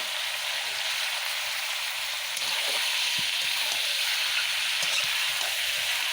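A whole chicken frying in plenty of oil in a pan, giving a constant, dense sizzle with faint crackles and pops throughout, steady and fairly close.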